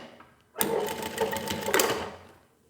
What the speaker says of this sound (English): when I'm ready to finish sewing, I'll just heel back on the foot pedal under the machine